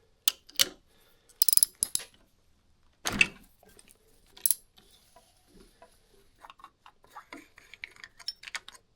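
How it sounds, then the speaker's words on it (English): A 17mm wrench working the fork top cap on a 2001 Yamaha YZ125 motorcycle: sparse metallic clicks and ratcheting bursts with quiet gaps between, close up, no speech. "This is going to take a 17mm wrench for this one"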